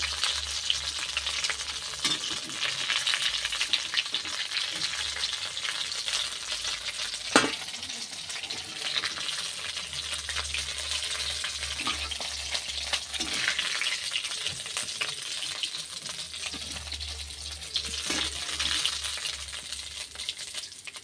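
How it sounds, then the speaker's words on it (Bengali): Snack pieces deep fry in hot oil, a continuous close bubbling sizzle with occasional louder pops and a brief clatter of a utensil, running steadily without any talking. "পরেরগুলো একইভাবে ভেজে নেব"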